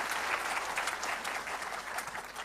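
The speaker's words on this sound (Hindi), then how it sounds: "ताली बजाओ" Audience at a spiritual talk gives steady, full applause, many hands clapping evenly at moderate distance without any voices over it.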